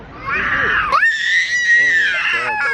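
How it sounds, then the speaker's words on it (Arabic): Outdoors by wooden play structures built around a tree, a young child lets out a loud, high-pitched sustained scream that wavers and then holds steady, with brief voices underneath. "قاعد يزعق من بعيد عشان جلسنا على عربية"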